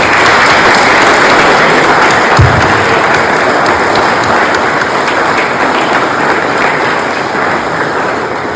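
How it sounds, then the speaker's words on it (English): Applause from a school assembly crowd, a loud, dense and continuous roar of many hands clapping that fills the hall, holding steady and easing slightly toward the end, with no talk. "round of applause for everyone who's spoken recently at assembly as well"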